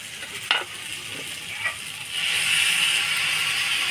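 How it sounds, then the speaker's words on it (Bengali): Jackfruit and fried potatoes are stirred in a frying pan, with a few scraping knocks of the spoon early on, then a steady sizzle that grows louder in the second half. "কাঁঠাল আর আলু ভালো করে নাড়াচাড়া করে নিলাম।"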